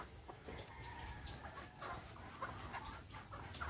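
Several chickens cluck softly at a distance, short scattered calls over a steady low background murmur.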